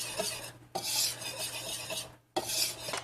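Apple muffin batter with ginger stirred in a bowl, close rhythmic rasping scrapes in long strokes separated by brief pauses, with no voices.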